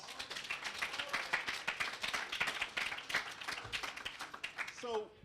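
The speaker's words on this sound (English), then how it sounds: "So let's give Colleen another round of applause." Audience applause at an author event, a faint, steady patter of many hands clapping close together and filling the room, with a brief voice at the very end.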